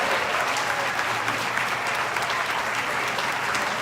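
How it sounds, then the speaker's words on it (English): Audience applause for Teacher of the Year nominees at an award event: steady, full clapping from a large crowd, sustained and even for the whole stretch with no voices over it. "Can we give one more round of applause for all of our Teacher of the Year"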